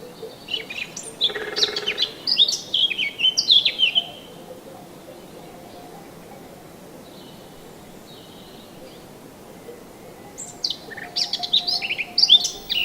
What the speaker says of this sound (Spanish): las aves son más fáciles de observar, como este pico picapinos